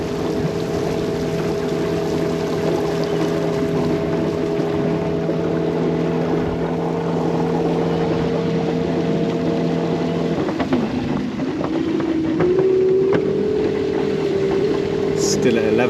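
An Overboat electric hydrofoil personal boat cruises on open water toward a harbour, producing a steady motor whine with sustained tonal hum and water rush that shifts pitch partway through as speed changes.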